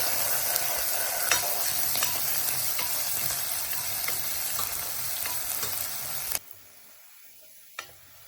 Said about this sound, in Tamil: கருவேப்பிலை சின்ன வெங்காயம் எல்லாம் சேர்த்து பொன்னிறமாக வர்ற வரைக்கும் நாங்கள் இதை வதங்க விட போகிறோம்